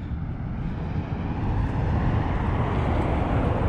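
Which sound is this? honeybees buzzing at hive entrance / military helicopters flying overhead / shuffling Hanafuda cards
military helicopters flying overhead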